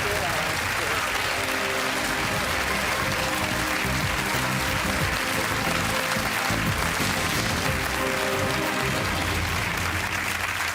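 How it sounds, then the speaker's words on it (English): Studio audience applause on a lottery game show, loud sustained clapping and cheering filling the whole stretch without a break. "He deserves a round of applause."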